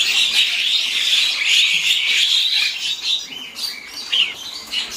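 Javan mynas (jalak kebo) call at a bird market stall, a dense, continuous chorus of shrill chirps and chatter from many birds at once, close and loud throughout.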